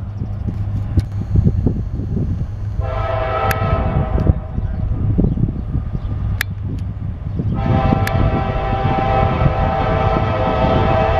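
A CSX eastbound mixed freight train passes in Marion, Ohio, with a steady, loud rumble of rolling cars throughout and long, sustained horn blasts sounding close by.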